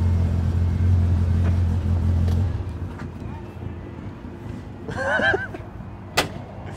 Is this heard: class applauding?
no